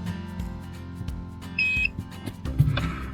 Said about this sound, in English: hold them together for a couple of seconds and you'll hear a beep